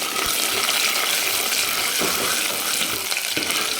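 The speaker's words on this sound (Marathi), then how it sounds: "छान ह्याला सोनेरी कलरवर आपण परतून घेणार आहे" Finely chopped onion sautéing in oil in a pan until golden, for a chicken dish: a steady, dense sizzle of frying runs unbroken throughout, with faint stirring scrapes.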